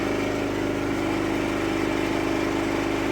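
A Champion 2200 inverter generator's small engine runs steadily after starting, a continuous even hum at moderate level with no voices.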